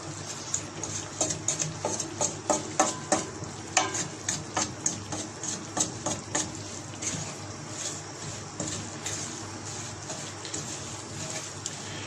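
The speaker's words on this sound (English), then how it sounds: "I am using here desi ghee and it is cooking very nicely." Semolina halwa stirred and fried in desi ghee, a spoon scraping the pan in a quick irregular series of soft clicks and taps over a steady sizzle that continues alone once the stirring eases.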